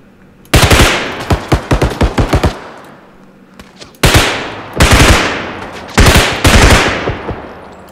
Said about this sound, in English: I think I'm using the UMP right now.